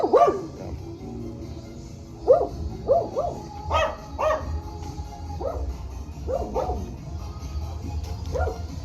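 A neighborhood dog barks in short bursts, single and double woofs spaced over several seconds, moderately distant and clear above a low background hum.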